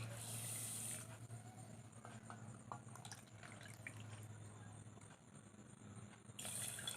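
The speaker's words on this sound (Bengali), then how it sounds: "এইটা মেপেই আমি জল দিচ্ছি।" Measured cups of water poured into 400 grams of sugar to make syrup for gulab jamun, a steady close trickle and splash over a low kitchen hum, with faint voice in the background.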